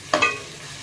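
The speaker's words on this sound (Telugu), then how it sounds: "సో ఇప్పుడు మొత్తం ఒకసారి మిక్స్ చేసేసుకుంటున్నాం." A spoon scrapes through tomato cauliflower egg curry with ginger garlic paste in a pan, two quick close stirring strokes with a brief sizzle, then a faint background hiss.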